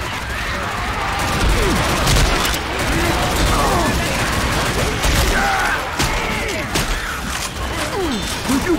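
Sustained weapon fire in Left 4 Dead 2 with repeated shots, clanking mechanical sounds and crashes running continuously and loudly, while game voices are faintly mixed in underneath.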